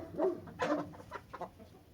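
A Brazilian-cross hen, daughter of a Brazilian rooster, clucks in a few short close bursts, with no talking.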